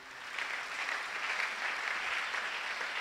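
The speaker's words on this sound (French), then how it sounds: "Acclamons la parole de Dieu." A church congregation applauding, a dense steady wash of clapping from many hands that swells in and holds for about three seconds, moderately distant and without speech.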